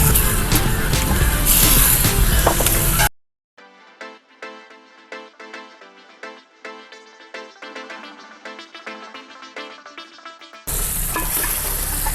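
Marinated fish sizzles loudly as it fries in a pan, the hissing frying sound filling the opening seconds and returning at the end, with a quieter melodic passage in between.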